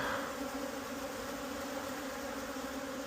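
Honey bees buzz steadily and fairly loudly close by as a hive frame is lifted during a queen treatment swap in a strong, calm colony, a continuous droning hum with no talking.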